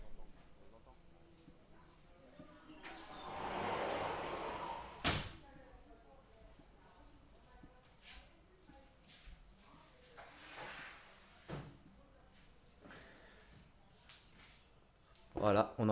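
A window is pushed shut with a dull thump partway through, then another knock later, while people talk nearby in a room.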